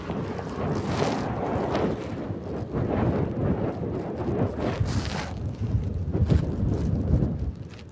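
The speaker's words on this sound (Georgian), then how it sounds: "უქარესი ქარი." Strong wind buffets the microphone during a mountain bike ride, a loud, gusty roar that surges and rumbles continuously for several seconds with no other sound clearly standing out.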